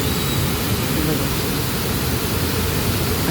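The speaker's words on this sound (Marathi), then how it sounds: "आमच्या भिवंडीचा हा मिनी धबधबा आहे" A small monsoon-fed waterfall spills over a weir at Varhala Devi lake in Bhiwandi, producing a constant, loud broadband rush of water with no breaks.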